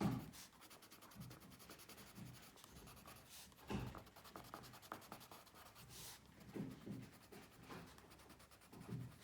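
Crayola colored pencil scratches and rubs across paper with medium to firm pressure in quick, uneven strokes, soft and close with a dry, gritty texture and no talking.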